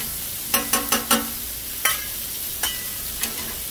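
Chicken pieces sizzle steadily on a hot griddle for chicken fried rice, with a spatula scraping and tapping the surface in a quick burst of four strikes, then a few scattered ones.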